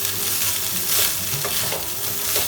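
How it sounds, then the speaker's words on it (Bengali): Cooked rice being stirred into fried onions and cumin in a pan for jeera rice, a steady close sizzle with scraping stir strokes throughout and no voices. "ভাতটা অ্যাড করে এটাকে ভালো করে মিক্স করে নেব"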